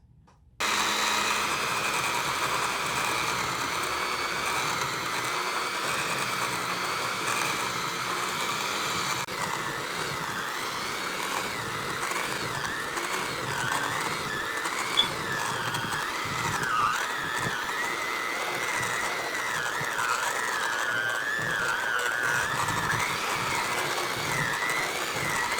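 A stand mixer whirs steadily as it mixes gluten-free vegan oatmeal raisin cookie dough with baking soda, salt and cinnamon, a continuous close motor drone with slight shifts in pitch and no voices.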